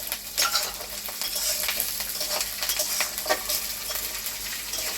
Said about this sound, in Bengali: চটপট শব্দ হচ্ছে কাঁচা লঙ্কা দেওয়ার পরে।